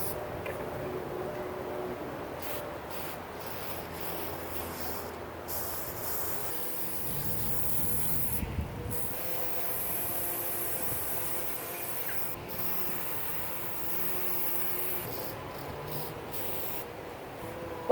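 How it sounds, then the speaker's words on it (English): A can of bright orange spray paint hisses in long, close, steady sprays with a few short breaks between passes. "I thought I had pink spray paint, but I only have bright orange."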